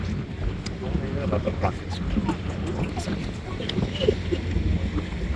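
A canal tour boat cruises through Nyhavn in Copenhagen, its low engine drone steady under gusting wind on the microphone, with faint voices mixed in throughout.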